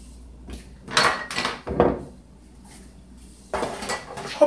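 A baking pan for blueberry cobbler is handled in a home kitchen, with two or three close metallic clatters and scrapes followed by a later burst of rattling, and no talking.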